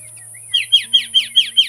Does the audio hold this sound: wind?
no